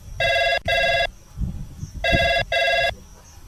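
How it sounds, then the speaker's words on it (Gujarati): A telephone rings in two pairs of electronic trills, each burst about half a second long, with faint rustling and low background noise between them. "કેમ ફોન નથી લાગતો? રિંગ જાય છે હો."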